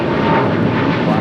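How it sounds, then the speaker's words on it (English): Philippine Airlines Boeing 777-300ER departing LAX, a loud, dense jet engine roar filling the whole moment without a break. "Philippine Airlines Flight 113 now departing"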